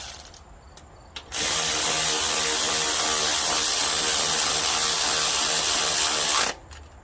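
A ratchet tightening an engine mount bolt on a 2013 Nissan Sentra during a passenger-side mount replacement, a loud continuous rapid clicking run lasting several seconds, close up, after a couple of short clicks.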